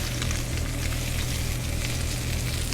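Thyme and garlic frying in oil in a pan, a steady, close, dense sizzle with crackling pops throughout and no talk.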